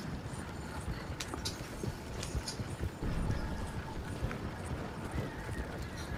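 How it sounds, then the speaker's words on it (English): Horse hooves clip-clopping in the video game Red Dead Redemption 2, a steady close rhythmic trot of hoofbeats over ambient outdoor noise, with no talk. "Is that a white horse?"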